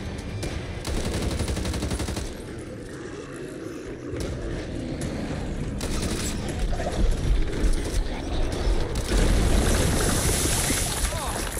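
Gunfire in the co-op zombie shooter Back 4 Blood, dense overlapping automatic fire and cracking shots over a heavy rumbling din, loud and continuous, with voices talking over it.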